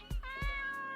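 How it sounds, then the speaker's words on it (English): Two short, bright meows from a cat in a video game, close and clear, the second drawn out into a long tonal cry that fades near the end. "Oh, we can pet the kitty."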